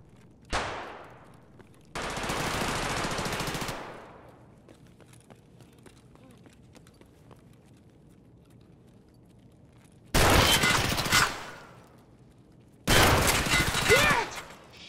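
Bursts of automatic gunfire crack out in Escape from Tarkov, an early short shot then three loud sustained volleys separated by quiet gaps, fairly close and sharp, with faint ambient hum between.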